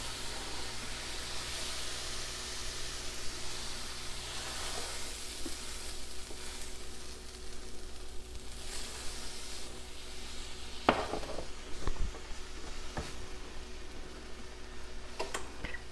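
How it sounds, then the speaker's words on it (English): Milk is poured slowly into a hot pan and stirred, making a soft continuous sizzle with faint scraping stirs and a few sharper clinks of a utensil, close and steady. "And now we're going to add in the milk. 1 cup of milk slowly."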